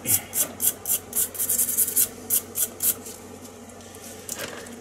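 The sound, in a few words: brush scrubbing a very rusty tool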